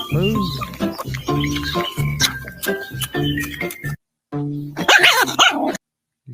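A little puppy growls and yaps in a quick series of close, rough barks and snarls, with a person talking over the top, then a final burst of yapping after a brief pause.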